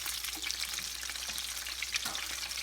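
Meatballs frying in a pan, a soft, even crackling sizzle that holds steady without pause and stays fairly quiet and close, with no talking.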